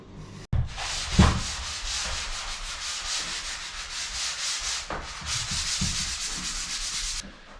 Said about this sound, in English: first just got to finish up a little bit of sanding